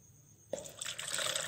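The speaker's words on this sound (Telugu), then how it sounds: "ఇందులో వాటర్ పోసుకుందాం" Water is poured into a small water tank fitted with an overflow alarm's plug pins. After a quiet start, a sudden splash becomes a steady, close, trickling fill that grows louder as it continues.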